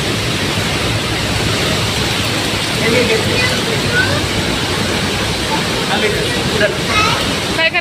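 Thoseghar waterfall in Satara roars as a dense, unbroken wash of falling water, loud and constant from start to finish.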